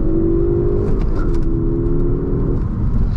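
Inside a Ford Focus ST with 40k miles, the engine pulls through gear shifts, a loud, sustained droning rumble whose pitch shifts and dips as it changes gears.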